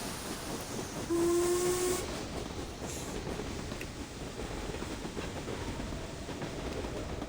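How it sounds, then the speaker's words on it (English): A train rolls into a storm in an audio drama: a steady, continuous rumble and hiss of carriages on the rails, with a brief whistle-like tone near the start, and no voices. "Low rumble, drowned voices, shouts, and any stray sounds in the train."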